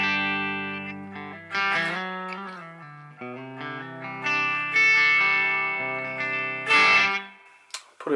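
Clean electric guitar played through the clean channel of a vintage Marshall amp, gain right down, a series of sustained chords and single notes with a bright, undistorted tone, fairly loud and close.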